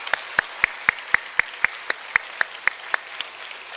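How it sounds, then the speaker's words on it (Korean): A church congregation at an army headquarters church youth devotion service claps for the middle-school teachers: a steady, evenly spaced beat of sharp unison claps, about four per second, clear and moderately loud. "크게 박수해 주시면 좋겠습니다."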